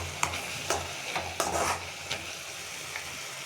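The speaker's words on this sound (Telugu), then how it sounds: "ఈ ఆకుకూర బాగా స్మెల్ లేకున్నట్లా బాగా మగ్గించుకోవాలి." Sirraku leafy greens sautéed in a pan: a quiet, steady sizzle runs under repeated scraping stir strokes, close and fairly loud, with no voices.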